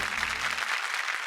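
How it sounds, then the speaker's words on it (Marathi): An audience on a Marathi TV show applauds a woman, a short burst of dense, even clapping from a crowd. "एकदा जोरदार टाळ्या होऊन जाऊ देत ताईंसाठी."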